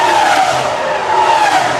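Fernando Alonso's 2005 Formula 1 car at the Brazilian Grand Prix squeals its tires in a loud, sustained skid, heard close over a constant high engine roar.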